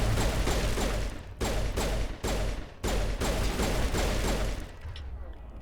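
Rapid pistol fire in Mass Effect: Legendary Edition comes as bursts of loud, close shots separated by brief pauses, with dense action sound filling the gaps and tapering off at the end.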